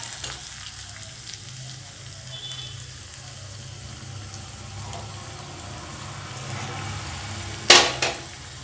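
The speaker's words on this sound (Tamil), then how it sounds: "இப்போது திராட்சைகளை சேர்த்துக்கலாம்" Raisins frying alongside roasted cashews in a pan for sweet pongal, a low steady sizzle that stays soft throughout before a sudden louder crackle and clatter near the end.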